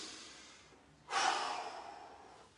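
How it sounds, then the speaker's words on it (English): After taekwondo side kicks in a circuit workout, a single heavy exhale bursts out close to the mic following a quieter breath, then fades slowly. "Try and get your breathing back to normal as fast as you can."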